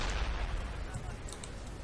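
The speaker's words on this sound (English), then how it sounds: "They called incendiary artillery." An incendiary artillery strike lands in Company of Heroes as one dense, steady rumble of explosive fire lasting under two seconds, heavy in the low end with crackling on top.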